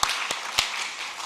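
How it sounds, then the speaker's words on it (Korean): Church congregation clapping together in applause at an Easter Sunday service after a cantata, a steady dense wash of many hands with a few sharper claps standing out, no voices. "다시 한번 영광의 박수를 하나님 앞에 올립시다."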